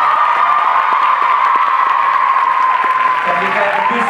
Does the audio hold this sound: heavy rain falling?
no